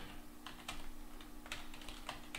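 Quiet typing on a computer keyboard while coding, a handful of light separate key clicks in uneven bursts over a faint steady hum.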